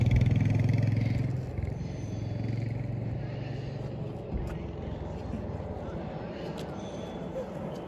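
A 125cc motorcycle engine drones steadily while riding on the road from Gangtok to Changu Lake, with a low rumbling hum and constant wind and road noise throughout.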